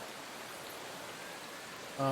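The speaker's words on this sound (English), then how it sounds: "It's raining." Steady rain in a Motorsport Manager race at the Black Sea GP: a soft, even hiss of falling rain throughout, low in level, with a faint brief sound at the very end.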